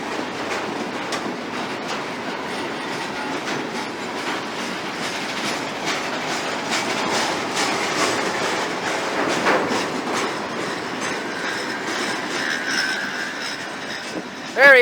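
A CSX freight train rolls through a rail yard with a steady broad rumble and rail clatter for the whole stretch, and voices talk faintly over it.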